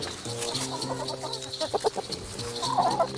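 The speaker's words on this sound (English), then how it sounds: "The hens are still pecking around" Backyard hens pecking around cluck in short, close, irregular bursts, with a brief rising squawk near the end and no talking.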